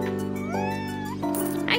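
A cat meows in the cozy street game Minami Lane, a short rising mewing cry over gentle background music while a person talks at the same time.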